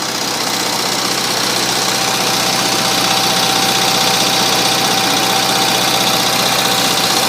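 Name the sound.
propane generator engine running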